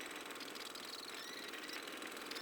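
Steady rattling engine drone of a farm tractor hauling a flatbed trailer in a farming video game, continuous and fairly faint, with no talking.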